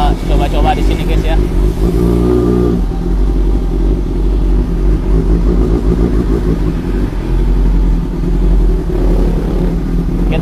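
A motorcycle engine runs loudly and close after being brought back to life, rumbling and revving through gear changes while someone talks over it.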